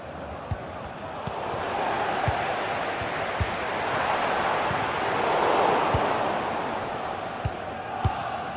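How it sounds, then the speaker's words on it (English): Stadium crowd noise from a football video game match featuring Bayern, a steady broad roar that swells toward the middle, with sharp thuds and knocks breaking through now and then. "The crowd certainly think so. Just listen to that noise."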